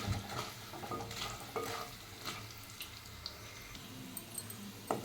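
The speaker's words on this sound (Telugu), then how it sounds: "ఇవన్నీ మంచి ఫ్రై అయినాయి" Quiet sizzling of spices and small onions frying in a pan, broken by soft scraping and stirring clicks at irregular intervals.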